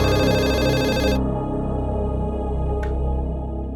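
A telephone rings in a home, a steady repeating electronic tone that sounds close and fairly loud, then stops, with no one speaking.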